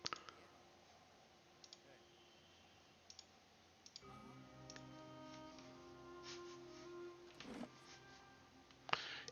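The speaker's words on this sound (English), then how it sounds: "You can hear my mouse clicking." A computer mouse clicks during play of Pillars of Eternity on a PC, with sparse, faint, sharp clicks scattered over quiet game sound and a low hum.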